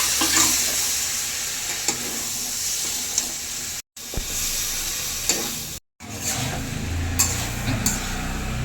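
Potatoes frying with poppy seed paste and spices for Bengali alu posto, stirred steadily in the pan with a continuous close sizzle and hiss, scraping strokes throughout and two brief gaps of silence.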